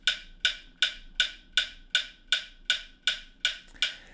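Metronome clicks from the Time Guru app at 160 bpm in 3/4 time, with eleven or so crisp, evenly spaced ticks, each with a short decaying tail. They sound alone and fairly quiet.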